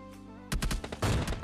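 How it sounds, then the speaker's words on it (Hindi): Gunfire in the PUBG Lite battle royale game: a low steady hum gives way to a rapid run of loud, sharp shots that fire in clusters for the last second. "पत्थर की तरफ से मेरे को फायरिंग की आवाज़ आती है"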